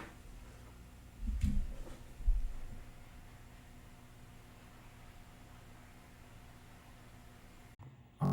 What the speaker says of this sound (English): It just started raining. What you're hearing is actually the noise of my outdoors.